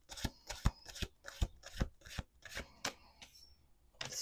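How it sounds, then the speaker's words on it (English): Playing cards being shuffled on a table, a quiet series of quick riffling and flicking bursts in steady rhythm with no talking. "Let's do one more shuffle."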